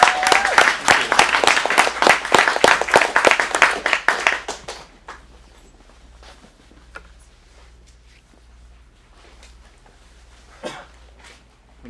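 Dense, loud applause fills the first four seconds as an audience at an adult acting-studio script showcase claps for the next performer, then it drops away to a quiet room with scattered soft shuffles and one faint knock.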